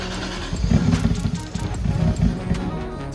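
A Lexus IS300 rumbles at low revs as it is started and eased out of a garage, giving a deep uneven engine throb that swells and dips over a few seconds, with no talking.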